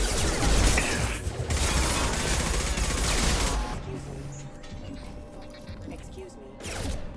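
Sustained bursts of automatic gunfire in the video game Mass Effect 2 during a firefight with hostiles, loud and dense with mechanical clatter, easing toward the end under game dialogue.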